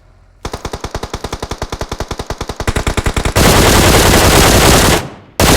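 Automatic gunfire in a video game: a rapid, evenly spaced burst of loud shots that speeds up, followed by a dense, continuous roar of fire that cuts off abruptly near the end.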